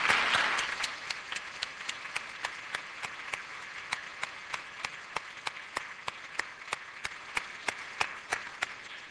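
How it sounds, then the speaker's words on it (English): An audience applauds at the close of a debate, a brief burst of clapping that thins into evenly spaced, steady claps. "Why don't we give Sam a big round of applause as well for chairing the whole thing."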